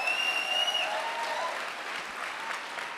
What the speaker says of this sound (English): You can clap for that one.